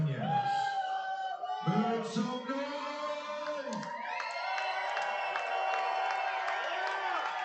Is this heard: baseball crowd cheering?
yes